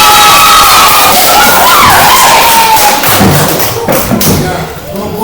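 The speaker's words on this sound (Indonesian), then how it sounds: "Ya, kelompok usaha dan tepuk tangan." Classroom of students clapping with loud thumps, shouts and cheering, the crowd noise dense and close throughout.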